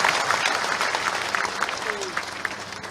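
An audience at a Bihar Diwas celebration gathering claps steadily, a dense, continuous patter of many hands with scattered louder claps throughout, sustained at a fairly even level for the whole stretch.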